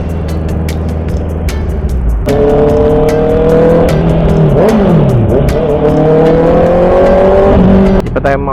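A Honda CB650R motorcycle's engine is revved hard in traffic, a loud, close, rising-and-falling roar with sharp pitch sweeps, while someone talks over it.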